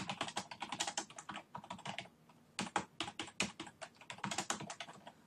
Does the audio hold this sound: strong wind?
no